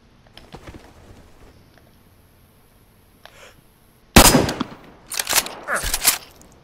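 Gunfire in the DayZ survival game on PS4: a sudden loud burst of sharp cracks after a quiet stretch, followed by two more clustered volleys, close and harsh.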